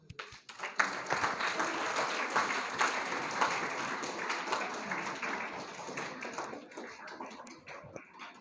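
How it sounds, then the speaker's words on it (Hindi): Students applaud their teachers at a government high school annual award ceremony, a sustained crowd of clapping hands that holds steady for several seconds before gradually thinning out, with no talking over it. "भरपूर तालियाँ"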